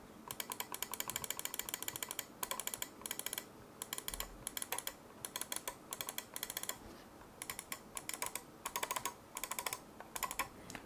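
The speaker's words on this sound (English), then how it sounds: "you've got those really nice clicky clicky switches, so I'll give you a demonstration of those" Sharp left-button clicks of an EndGame Gear XM1 RGB gaming mouse, pressed in quick bursts and irregular runs with short pauses, close and crisp, with no talking.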